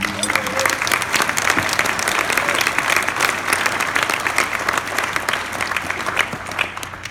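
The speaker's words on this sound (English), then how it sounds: "So let's give him a round of applause for that." Audience applause honoring Dr. Miscovich, physician of the year, a dense sustained round of clapping from a large crowd filling the whole stretch at steady loudness.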